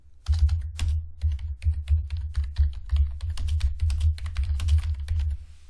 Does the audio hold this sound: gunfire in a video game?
no